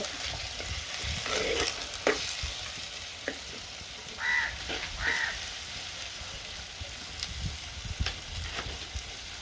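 Squid sizzles steadily in a hot pan during home cooking of a seafood lunch, with scraping spoon strokes stirring it at intervals and faint crow caws in the background.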